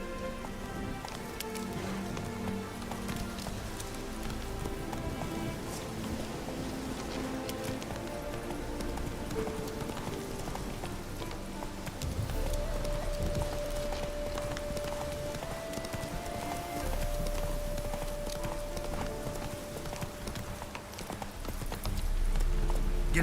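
Horse galloping in The Witcher 3, a steady rapid clip-clop of hooves running continuously over game ambience, with a faint tonal sound in the middle and no talking.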